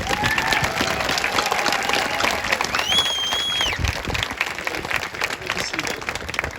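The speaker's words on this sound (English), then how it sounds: "Can we give them a round of applause?" A graduation audience at Lake Shore High School applauds National Honor Society students, with dense, sustained clapping from a large crowd and a few whistles and voices rising over it.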